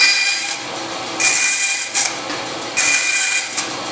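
A bandsaw cuts relief cuts into a wooden workpiece, giving a few bright rasping bursts of blade through wood, each lasting under a second, separated by quieter idle running, close and loud with no talk.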